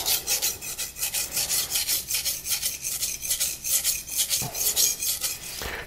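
A knife is sharpened on a 300 grit King whetstone with fast, even back-and-forth strokes, a close and continuous rasping rhythm with no talking.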